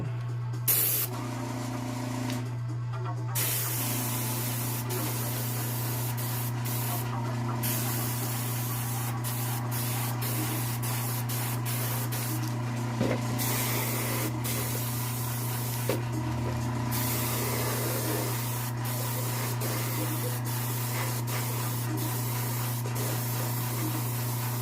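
An airbrush sprays an intense purple base coat in a special effects makeup setting, giving a steady, continuous hiss over a constant low hum, with brief gaps where the spray stops and restarts.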